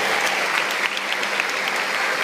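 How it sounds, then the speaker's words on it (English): A church talk-show audience breaks into loud, steady applause, dense and continuous throughout. "How about a round of applause for Shasta and Rudy?"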